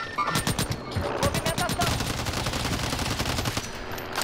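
Loud assault rifle fire in Call of Duty Warzone: rapid automatic bursts that run nearly continuously for a few seconds, close and dominant.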